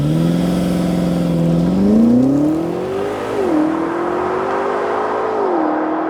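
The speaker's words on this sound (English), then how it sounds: "this might be the noisiest V8 that you can get right now" The V8 of a 2022 Jaguar F-Pace SVR SUV revs up loudly, a deep, throaty exhaust climbing in pitch, then settles and blips again in steady bursts, close and unbroken by any talk.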